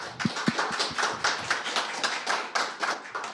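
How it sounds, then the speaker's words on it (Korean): An audience at an education conference presentation claps together, producing a steady, moderately loud run of overlapping handclaps that lasts several seconds without speech. "큰 박수 부탁드립니다."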